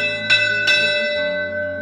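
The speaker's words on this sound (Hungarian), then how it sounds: "a harangot nagyon nehéz úgy megoldani, hogy csak 3-at konduljon, és pontosan 3-at kell nekik" A chapel bell in a tower at a heritage quiz contest in Sümeg strikes with a clear, ringing tone, two distinct strokes audible over a sustained hum, each decaying slowly.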